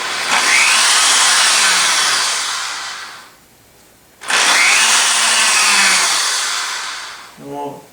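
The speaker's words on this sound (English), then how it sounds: "we'll just use a real small drill bit and start drilling in each hole." A high-pitched power drill with a small bit whines loudly drilling holes in leather, in two long bursts separated by a brief pause, close up, with a short rattle at the end.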